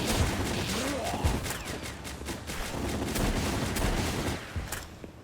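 Gunfire in the video game Palworld, a dense run of rapid shots and blasts packed close together at steady loudness, with a voice speaking faintly underneath.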